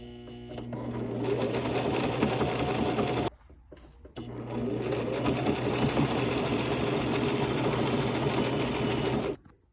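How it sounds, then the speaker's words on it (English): Sewing machine stitching apron fabric with a steady, fast mechanical whir, running continuously, pausing briefly for about a second, then resuming before stopping; close and alone. "we sew it on the back so that on the front it looks like that"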